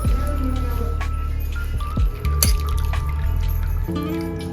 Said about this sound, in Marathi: आता आपण याचं पाणी निथळून घेऊया